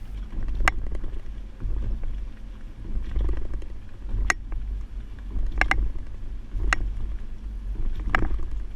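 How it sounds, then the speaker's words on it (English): A 2019 Ford Expedition carrying a Kuat NV 2.0 two-bike rack rolls over alternating speed bumps: a steady road rumble punctuated by about half a dozen sharp rattling clunks from the rack and bikes. "Now we're at the alternating speed bumps."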